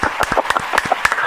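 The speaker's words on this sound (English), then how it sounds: "we got to do the crowd applause" A short burst of crowd applause and clapping, dense and lively with irregular sharp claps, heard loud and close with no speech over it.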